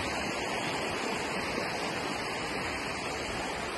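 Water rushing in a forest stream near Gulma, Siliguri, a loud, dense, continuous roar of flow that stays even throughout, with no voices.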